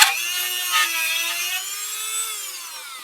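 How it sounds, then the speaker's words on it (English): A Dremel rotary tool bores out a hole in a carved wooden ventriloquist figure, a steady high-pitched whine held close and loud for about three seconds with a slight dip in pitch toward the end. "we're going to take our Dremel here and we're going to bore this out a little bit"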